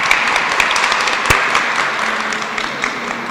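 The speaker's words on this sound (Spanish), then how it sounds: "vamos a darnos un aplauso porque estuvo bonita la historia" Applause from a church congregation gathered for a spiritual talk, a dense steady wash of many hands clapping, close and continuous without spoken voices.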